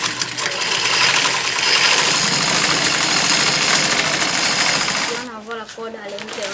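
An electric sewing machine motor runs with a steady loud whirring drone for about five seconds while stitching a bag, then stops abruptly and a voice speaks alone.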